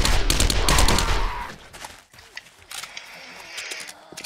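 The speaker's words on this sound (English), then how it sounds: "I'm just gonna take you out with the submachine gun" Rapid submachine gun bursts in the video game 7 Days to Die, a loud dense volley for about a second and a half, then scattered quieter shots and clatter.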